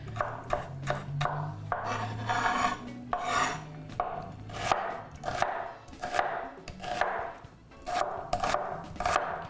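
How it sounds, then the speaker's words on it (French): Knife chopping an onion on a cutting board while preparing taco-style stuffed peppers, a brisk run of close, sharp thunking cuts in steady rhythm with brief pauses. "je suis juste en train de couper l'oignon."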